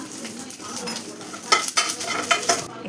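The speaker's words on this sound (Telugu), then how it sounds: "ఇప్పుడు చూడండి, ఇందులో ఈ కలుపుకున్న పెరుగన్నంలోకి మనం ఈ పోపుని ఇలా వేసేస్తాం అనమాట" Hot tempering poured and stirred into curd rice, a busy close sizzle with spoon scraping and clinks against the vessel, continuous and fairly loud for a few seconds.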